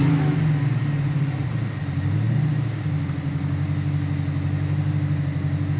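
An LS-swapped 1968 Chevy Camaro engine revs up from a rumbling idle, swelling to a loud roar around the middle, then settling back into a steady, throaty drone close by.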